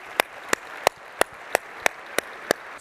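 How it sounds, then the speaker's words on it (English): Sharp, evenly spaced claps in a steady rhythm, about three per second, from an audience at a sales kickoff keynote, each clap crisp and separate with near silence between them. "Can I get a round of applause for all of you?"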